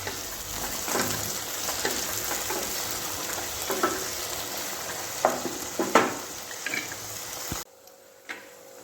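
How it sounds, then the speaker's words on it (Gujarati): Tomatoes sizzle and fry steadily in a pan for a Kathiyawadi ora dish, a continuous close crackle with occasional sharper pops and stirring scrapes, dropping away near the end. "ટમેટાં સરસ કૂક થઈ ગયા છે"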